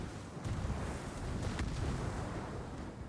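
Naval guns boom in a warship video game, with a few muffled, distant-sounding blasts and sharp crackling bursts over a constant low rumble of battle, no voices.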